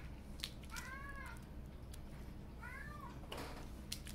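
Two soft meows from a cat some distance away, the second following about two seconds after the first, over a steady background hiss.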